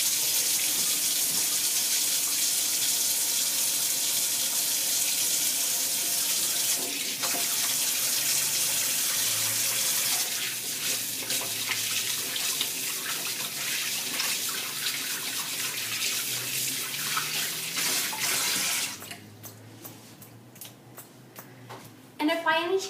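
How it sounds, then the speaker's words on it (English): A kitchen sink faucet runs steadily while hands are washed, giving a constant close hiss of water that ends with a few clattering sounds at the sink. "I'm going to wash my hands again."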